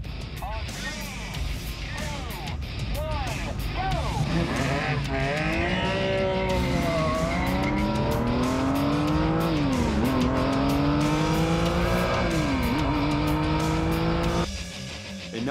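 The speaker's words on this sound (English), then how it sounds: "the Ferrari Enzo will face off against the Ferrari F50 for the battle of the V12s" Two V12 supercars, a Ferrari Enzo and a Ferrari F50, race each other, engines revving hard and climbing through gear changes in loud, sweeping pitch rises and drops for about fourteen seconds before cutting away.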